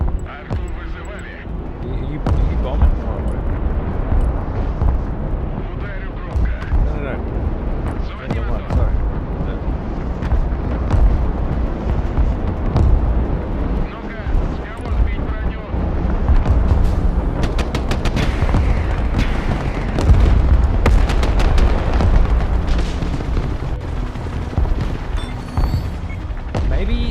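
Artillery strike explosions in the war game Broken Arrow: a dense, continuous barrage of booms and rumbling blasts with rattling gunfire layered in, loud throughout, while someone talks over it.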